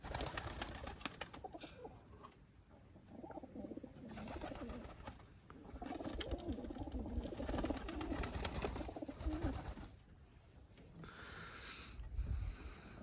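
Pigeons in a dovecote coo softly and continuously over a faint background hum, the calls low and fairly near, with occasional rustling and no voices.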